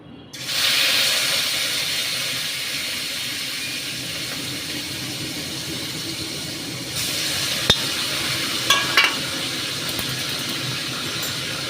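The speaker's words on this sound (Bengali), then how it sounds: "এইবার আমি এই মাছগুলোকে এর ভেতরে একটু ছেড়ে দিচ্ছি" Steady frying sizzle and hiss from a pan of rohu fish pieces coated in lemon juice and salt, constant throughout, with a few brief clicks and a louder burst of crackling partway through.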